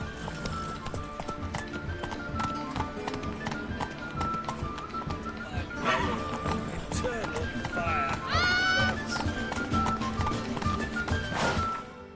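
A horse gallops in The Witcher 3, with rapid rhythmic hoofbeats running throughout, a short whinny partway through, and a voice speaking over it amid game music.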